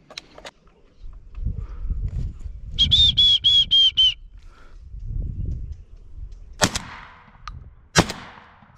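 Shotgun fire during a thrush hunt outdoors: two sharp, loud blasts land a little over a second apart near the end, after quieter rustling and a brief high whistled call.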